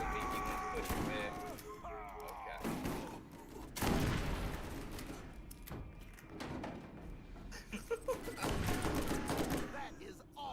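Sledge's legendary shotgun in Borderlands fires in a rapid series of heavy, booming blasts with rolling thuds, loud and close, mixed with other game noise and voices talking.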